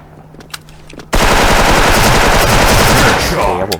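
Automatic rifle fire in the Special Force online shooter game, a sudden loud continuous burst of rapid shots that keeps going after a quieter opening stretch.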